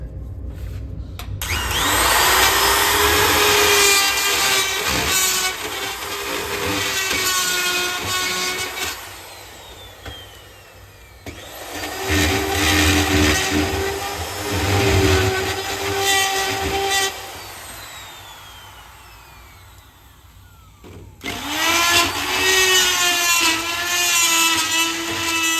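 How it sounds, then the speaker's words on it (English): Aluminum being ground with a cutting bit for aluminum comes in three long, loud bursts of high whining, screeching tone, each broken by short pauses as the tool spins down. "And when I start grinding, you'll see just by the shavings that are coming off how much"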